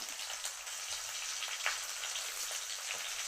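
Mustard seeds and small shallots sputtering in hot oil, a continuous hiss dotted with sharp pops and crackles, fairly quiet and close with no voices.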